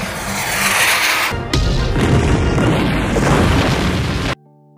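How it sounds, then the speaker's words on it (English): A loud, sustained explosion as an RPG strikes a fire dragon in an anime battle, a rumbling blast that changes character partway through and then cuts off abruptly. "the dragon fled in terror after being hit by an RPG"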